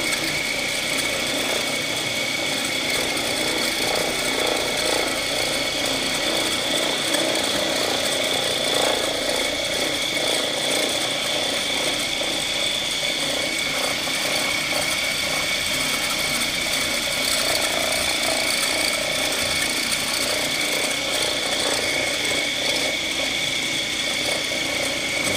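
Freedom floor buffer running steadily over VCT tile with a polishing pad, a continuous close whirring machine drone with faint rattling, alone with no talk for the whole stretch.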